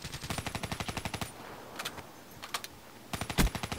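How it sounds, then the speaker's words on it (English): Rapid automatic gunfire from the Kuda submachine gun in Black Ops 3, one fast burst of evenly spaced shots, then a pause with a few scattered bangs and another short volley near the end. "the Kuda, it's a really good gun. It shoots very fast."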